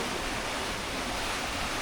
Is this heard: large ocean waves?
yes